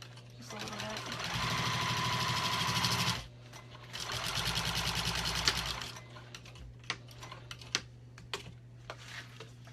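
A Juki 2000 QI sewing machine stitches through vinyl in two close, loud, steady runs of a few seconds each, then falls quiet apart from scattered clicks and handling knocks.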